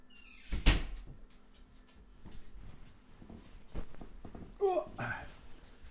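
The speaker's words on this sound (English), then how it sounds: "I'm shutting this door as well." A back door in a home is shut with one sharp, close thud near the start. Afterward there are quieter knocks and rustles, and a voice babbles toward the end.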